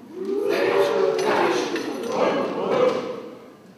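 A church audience's voices rumble together in two swelling waves, imitating booming thunder, loud and broad.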